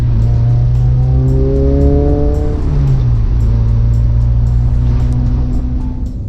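Mazda Miata cruising with the top down along a country road on an autumn day, its engine holding a steady drone with a brief gear-change dip midway, loud and continuous with no talk.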